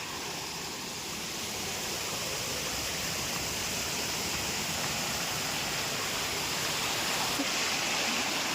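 A hill stream flows near a farm plantation in a forested hilly area, making a steady, even rush of water that holds at a constant level throughout with no voices.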